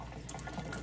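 Water poured over sea moss to make gel, a brief quiet trickle of liquid filling a container.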